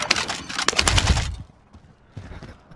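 Rapid gunfire in Call of Duty Warzone, a loud burst of quick cracking shots for over a second, then quieter scattered game sounds.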